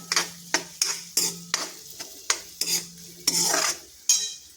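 Turmeric and red chili powder sauté in a pan, a spoon scraping and stirring in repeated strokes, about eight sharp scrapes over a low steady sizzle, close and fairly loud.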